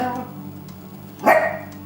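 A small female dog barks once sharply near the end, with a faint whimper-like sound before it, close and fairly loud against a quiet room.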